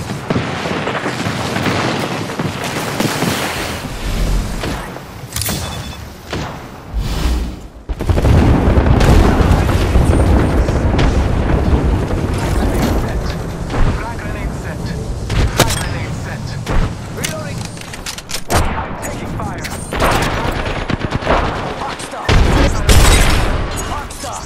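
Apex Legends combat is loud and dense: rapid gunfire bursts, heavy booming explosions and sharp impact cracks come in irregular clusters over most of the stretch.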